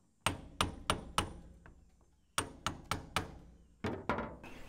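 A power tool hammers at sheet metal screws in the windshield frame of a 1956 Jeep CJ5, firing close, sharp rhythmic bursts in three separate runs with short pauses between them.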